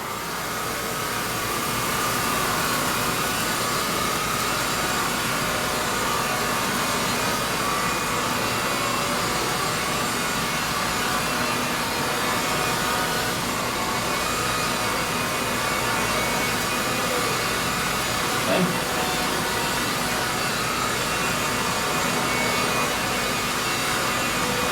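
A cordless stick vacuum, a Dyson DC35 Digital Slim or Hoover Linx, picks up pet hair with a steady, loud, high-pitched whine that holds evenly throughout, with no talking.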